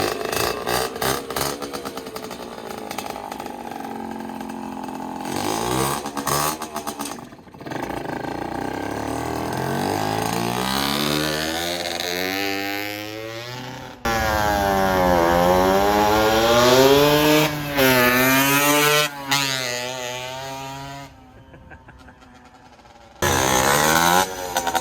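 A kick-started motorcycle, one of many up for sale, catches and revs hard in repeated rising and falling bursts, loud and close, with brief drops between throttle blips.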